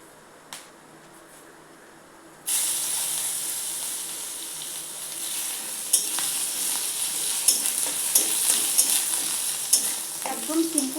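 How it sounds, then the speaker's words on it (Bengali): Crushed garlic hits a hot pan and sizzles loudly, with a spoon stirring and scraping through it. The frying starts abruptly after a quiet moment and stays steady and close, with sharp pops and clinks. "তারপর এর মধ্যে দিয়ে দিচ্ছি হচ্ছে রসুন"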